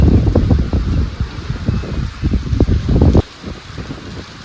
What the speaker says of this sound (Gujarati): વરસાદ ચાલુ થઈ ગયો છે અને વાયરો પણ ફૂલ છે